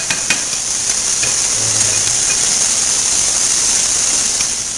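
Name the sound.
onions sautéing in a pan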